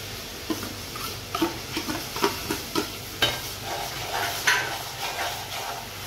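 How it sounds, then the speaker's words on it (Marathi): Tomato paste added to cooking onions in a pan for Agri-style misal, with a sizzling bed and a regular series of stirring scrapes and spoon knocks, close and clear, without talk. "आता आपल्याला टाकायची आहे टोमॅटो पेस्ट."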